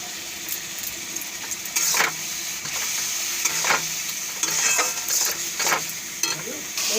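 Butter sizzling in a tadka pan with curry leaves and spices, a steady, close hiss punctuated by several bright scraping strokes of a spoon against the pan, with no talk.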